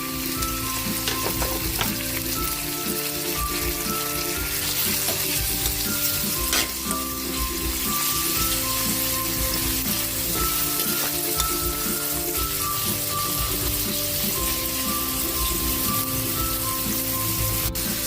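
Chopped onions and tomatoes sizzle steadily in a hot oiled pan, a dense continuous crackle with occasional stirring scrapes, close and even throughout with no voices.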